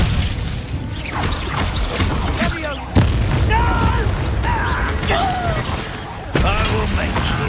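Fiery Confringo spell explosions in the Hogwarts Legacy video game, two sharp booming bursts with crackling debris over layered battle effects and game voices.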